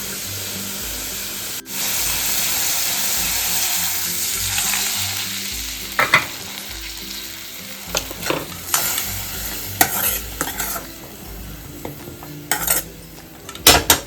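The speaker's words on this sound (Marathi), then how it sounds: "आता झालंय, आता आपण पाणी टाकणार आहोत।" Water is added to dill greens cooking in a pan, giving a loud steady sizzle and hiss, then quieter simmering broken by occasional close clinks and scrapes of stirring.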